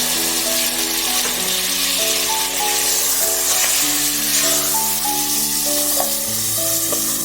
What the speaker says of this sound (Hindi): ये टमाटर प्याज के साथ गोश्त को अच्छी तरह से भून लिया है।